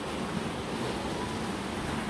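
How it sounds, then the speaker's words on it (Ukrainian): Sea surf washing onto a stony shore at Kaş on the Turkish coast, a steady broadband roar with wind noise across the microphone, constant and fairly close, with no voices. "Море борвить."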